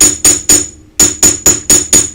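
A hammer strikes 16 gauge wire on a hard metal surface, sharp ringing blows at a quick steady pace, three hits, a short pause, then five more, loud and close.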